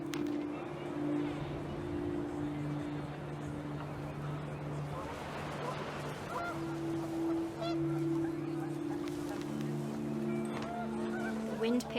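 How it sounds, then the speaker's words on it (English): Panicked geese honk repeatedly in the video game What Remains of Edith Finch, sustained overlapping honks over windy ambience, with a narrating voice present. "The wind picked up, and panicked geese appeared and quickly went."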